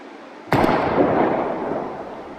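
A single loud gunshot at old computer monitors in the game Life is Strange, a sharp close blast at the start followed by a long decaying rumble and crackle, no talk.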